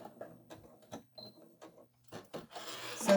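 A home sewing machine back-stitches fabric for a pleated pouch, short bursts of stitching alternating with brief pauses and soft handling noises, quiet and close.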